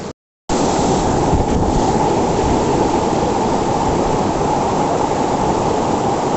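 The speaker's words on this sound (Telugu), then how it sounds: "అది ఇక్కడ 700 ఫీట్ హైట్ నుంచి పడుతున్న వాటర్ ఫాల్స్" Mutyala Dhara waterfall in Telangana, a roughly 700-foot drop, roars as a dense, constant rush of falling water, loud and close after a brief silent start, with no voices.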